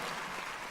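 An audience at a game announcement show applauds, a brief burst of dense clapping at moderate distance, heard alone without talk.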